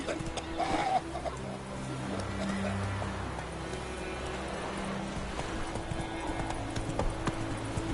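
Hooves of the horse Roach galloping in The Witcher 3, a rapid rhythmic clip-clop running steadily beneath music and game ambience, with a voice speaking at times.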